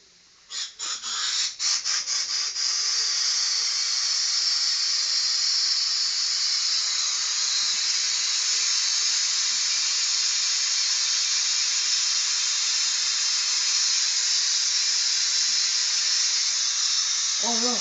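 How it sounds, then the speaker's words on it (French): An old bicycle inner tube being inflated: a few quick pumping pulses at first, then a strong, continuous high air hiss that holds steady and close for well over ten seconds. "On va essayer de gonfler pour voir."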